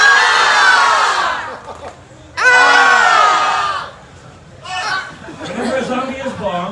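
An audience at a comedy zombie show at an Oktoberfest event screams loudly in mock terror in two long bursts, followed by mixed crowd shouts and chatter.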